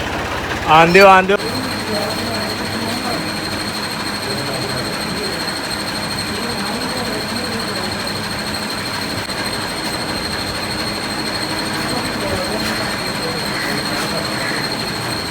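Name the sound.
tractor engine running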